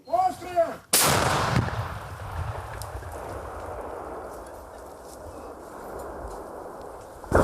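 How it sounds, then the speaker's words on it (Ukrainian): A brief voice, then one heavy 125 mm tank cannon shot booms loudly nearby, its rumbling echo trailing off for several seconds before another thump at the end. "І ще один снаряд 125-го калібру на додачу."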